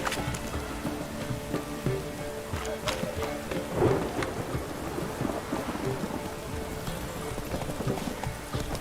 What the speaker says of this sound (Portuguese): Tá uma puta chuva.